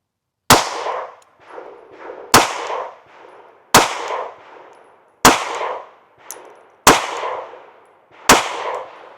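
Six .380 pistol shots fired with Underwood XTP ammunition crack out one by one at roughly even intervals, each a loud, sharp report followed by a ringing echo that decays before the next.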